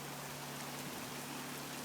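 Rain falls steadily at Kennedy Meadows near Fish Creek during a rainstorm, a dense continuous patter close by with a faint low hum underneath and no talking.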